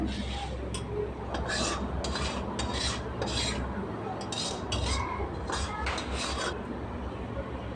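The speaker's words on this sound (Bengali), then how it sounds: "তারপর চিকেনগুলো এর ওপরে আমি দিয়ে দেবো চারিদিকে খেলিয়ে ভালো করে" Chicken pieces are spread over rice in a pot for chicken biryani with a metal spoon, giving repeated close scraping and clinking strokes in an uneven rhythm, with no talking.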